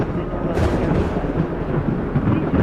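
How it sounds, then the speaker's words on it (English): Deep, loud thunder rumble from a flight simulator, a single sustained roll with a sharper crack partway through, with no voices over it. "Same thunder sound on both."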